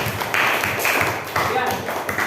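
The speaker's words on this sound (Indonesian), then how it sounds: "Kasih aplaus dong." An audience in a classroom teaching session claps in a steady burst of applause, fairly loud and close, with a voice talking over it.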